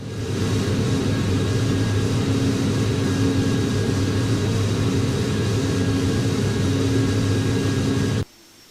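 A PMDG Boeing 737-800 airliner in Microsoft Flight Simulator 2024 rolling for takeoff, a steady, loud jet engine roar with a low rumble and a high whine, cut off abruptly near the end.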